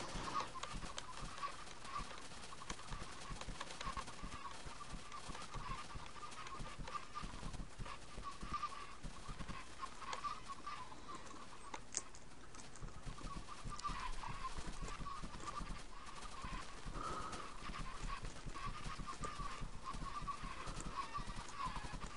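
Minecraft chickens clucking in the video game, a continuous dense chorus of game-animal clucks and squawks layered throughout, fairly quiet and without talk.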